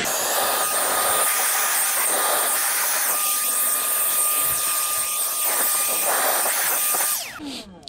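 Sebart Avanti Mini turbine model being blown out with compressed air: a loud, continuous high whoosh and hiss with a rising whine that holds for about seven seconds, then cuts off abruptly.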